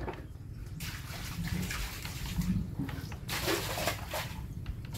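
Water pours and splashes out in uneven gushes and trickles, close and fairly loud, with sloshing surges over low background noise.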